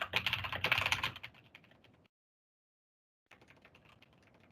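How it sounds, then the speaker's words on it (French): Rapid clicking of computer keys, a busy burst of typing that tapers off, falls silent, then resumes more softly. "Désolé pour le bruit du clavier"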